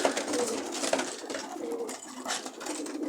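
Racing pigeons at the loft give soft, repeated cooing amid a busy wash of wingbeats and shuffling, fairly close and steady throughout.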